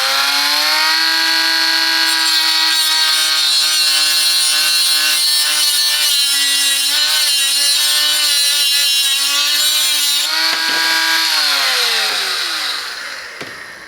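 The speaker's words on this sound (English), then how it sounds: "Next step, cutting this plastic tube." A Parkside 20V cordless angle grinder cuts through a plastic tube, a loud steady high-pitched whine with a rough rasping edge held for many seconds, dipping in pitch as the cut finishes and the motor winds down.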